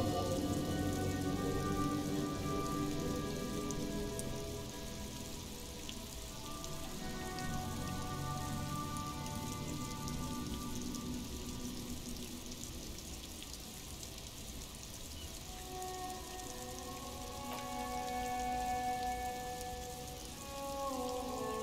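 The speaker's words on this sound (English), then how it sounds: "Stuck in the rain in a traffic jam" Steady rain falls throughout a scene in the video game Disco Elysium, a dense, even hiss of drops on surfaces with low tonal music humming underneath.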